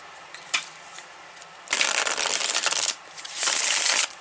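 A tarot card deck is riffle-shuffled up close in two crisp, rapid bursts of flapping cards, preceded by a few soft taps as the deck is handled.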